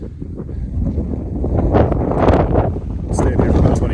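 Wind gusting across a West Texas mountaintop, a steady roar buffeting the microphone and building in strength toward the middle and end.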